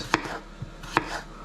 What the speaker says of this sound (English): we're going to slice up the potatoes, just skins on, very basic, fairly thick slices